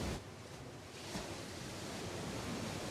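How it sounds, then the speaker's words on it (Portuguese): Sea waves and surf at the Cabedelo dike, where the Paraíba River meets the ocean near João Pessoa, Brazil, wash in as a steady broadband roar with light wind buffeting and no voices. "Chegamos no dique de Cabedelo, onde o Rio Paraíba encontra com o mar."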